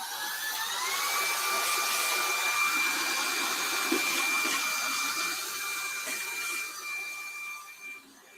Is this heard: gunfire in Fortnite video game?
no